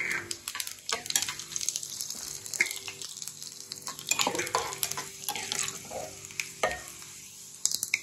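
Cumin seeds, dried red chillies and other tempering seeds frying in hot oil, giving a steady close sizzle with stirring scrapes and light clinks of the pan, and no talking.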